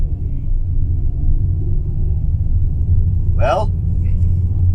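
A Mitsubishi Xpander with a remapped ECU, carrying five people on a test drive, rumbles steadily from inside the cabin, with low engine and road noise throughout and a brief spoken word.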